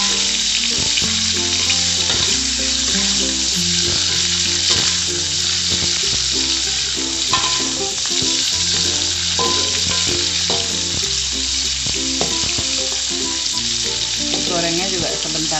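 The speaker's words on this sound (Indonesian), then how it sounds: "Langkah pertama saya goreng dulu udangnya ya teman-teman." Steady, dense sizzling of shrimp frying in hot oil, loud and close, with occasional clinks and stirring throughout.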